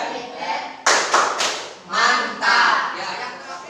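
A group of schoolchildren in a classroom claps a rhythmic 'tepuk hebat' chant, with sharp bursts of hand claps alternating with loud chanted voices in a patterned sequence, close and lively.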